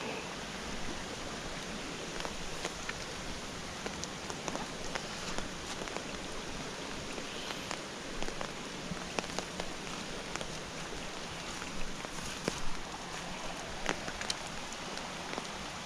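Heavy rain pours down in a steady, hissing wash, with scattered louder drops pattering on nearby surfaces.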